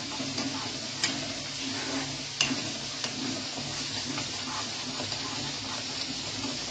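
A black urad dal mixture being stirred in a pan, giving a soft continuous scraping and sizzle with small irregular ticks of the spoon against the pan.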